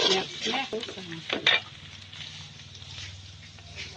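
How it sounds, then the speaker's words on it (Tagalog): Onion and garlic being stirred in a pan as they brown, with steady close sizzling and frying, scraping stir strokes, and a few louder clatters of the utensil against the pan in the first half. "Haluin ng haluin. Dapat medyo brown yung sibuyas o yung bawang."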